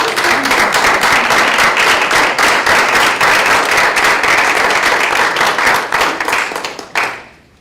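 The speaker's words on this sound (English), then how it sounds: "We've clapped for a lot of things tonight." Attendees at a school board public meeting break into loud, sustained clapping that fills the room for about seven seconds before stopping abruptly.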